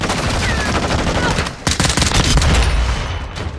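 Dense, loud gunfire rattles in Call of Duty: Modern Warfare II, with rapid overlapping shots and bursts, a brief lull midway, then heavy continuous fire resuming.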